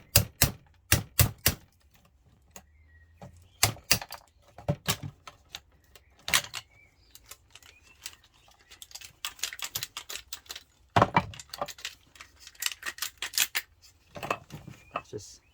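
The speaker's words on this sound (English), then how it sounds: "If you are removing, just go across with your chisel." Sharp metallic clicks and knocks of a chisel knocking components off a low grade circuit board, in irregular bursts of close, loud taps with quiet gaps between them.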